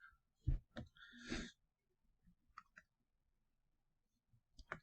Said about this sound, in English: turn on the pen